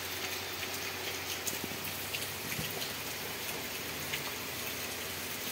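Heavy rain falling steadily, a dense hiss of drops on surfaces with scattered sharper patters, moderately quiet and constant throughout with no voices.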